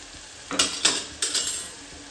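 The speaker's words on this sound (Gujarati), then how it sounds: "ચોળી સંતળાવા લાગે છે" Yard-long beans (green chawli) are stirred as they sauté in a hot pan, making a few short scraping, sizzling bursts close by with quiet gaps between them and no talking.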